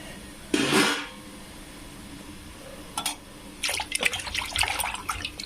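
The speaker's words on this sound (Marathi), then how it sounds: "नंतर आणखी पाणी टाकायचं" Water poured into a pan of frying brinjal in a spiced gravy, a short splashing pour followed later by a longer burst of bubbling and sputtering, close and moderately loud.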